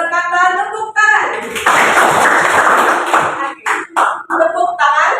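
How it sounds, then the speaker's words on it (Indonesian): A group of children claps together in a burst of dense, rapid hand claps lasting a couple of seconds, framed by spoken voices before and after. "Bos berkata tepuk tangan."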